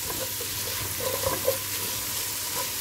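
Quiet, steady frying sizzle of onions in a pan where veal was browned for goulash, with a few soft scraping and stirring knocks, no talking.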